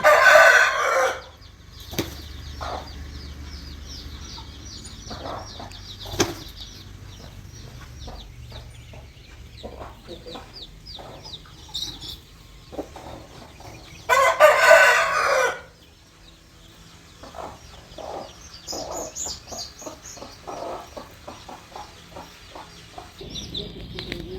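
A sick hen with heavy mucus, a swollen eye and a reddened eye, clucks in a farmyard. Bursts of rooster crowing and clucking rise loud at the start and again mid-way, with quieter scattered calls between.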